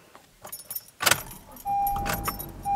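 Keys jangle in a loud metallic burst, then brief further jingles follow while a car's steady tone or chime sounds in the background.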